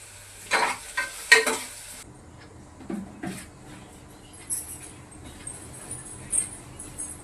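Tomatoes fry in a pan while a utensil stirs and scrapes them, giving a few sharp scraping bursts early on followed by a low, steady sizzle and occasional soft clinks.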